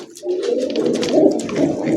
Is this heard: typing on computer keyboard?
no